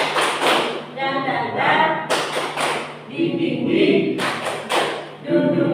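A group claps out the rhythmic "tepuk semangat" chant at a positive-culture school session, with sharp clusters of claps alternating with spoken chant syllables and a voice.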